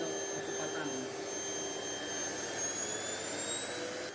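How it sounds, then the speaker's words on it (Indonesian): A KRISBOW vacuum cleaner runs steadily over a freshly laid carpet in a renovated room, a constant close whine with high tonal hum that holds without pause throughout. "Aku menggunakan Chris Bow vacuum cleaner."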